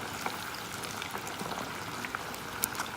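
Catfish and fries frying in hot oil give a faint, continuous bubbling sizzle with tiny pops scattered throughout and one sharper tick near the end.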